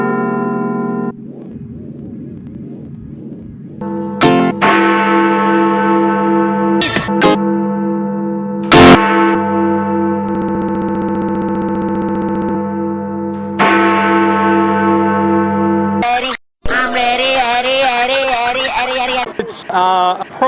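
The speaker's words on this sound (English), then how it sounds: "The quarter bells, which we heard." Big Ben's quarter bells chime in a series of loud, ringing bell strikes with long sustained tones, broken by short choppy edits and bursts of processed sound, and a voice speaks briefly near the start.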